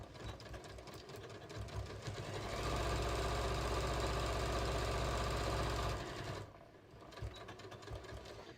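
A sewing machine stitches a beach tote in one steady, loud run of about three and a half seconds, with softer handling noises and brief stitching before and after.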